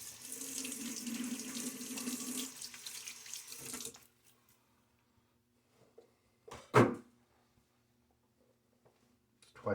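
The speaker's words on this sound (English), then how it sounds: "A little quick splash of water now." Water runs from a bathroom tap at a sink during a wet shave for several seconds, then stops, followed by a couple of brief splashes and clatters near the counter.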